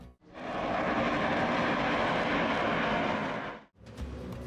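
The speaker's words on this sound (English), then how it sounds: "The Su-57 is Russia's first fifth-generation stealth fighter" Russian Su-57 stealth fighter jet flying, a loud, steady broadband engine roar held for several seconds before cutting off abruptly, followed by brief quieter sound.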